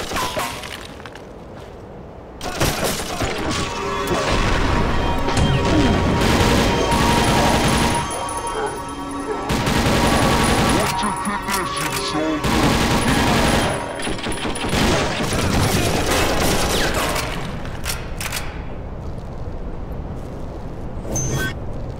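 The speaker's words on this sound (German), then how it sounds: "der schießt wie ein Wahnsinniger" Dense, sustained gunfire from an enemy in the shooter game TimeShift, loud bursts rolling almost continuously for most of the stretch with brief lulls, crashes and impacts mixed in.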